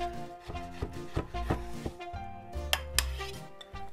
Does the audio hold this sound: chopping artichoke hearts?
yes